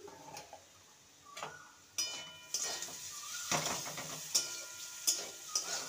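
Potatoes fry covered over a low flame, a faint sizzle under a run of sharp clatters and taps from a utensil and the pan, growing busier toward the end.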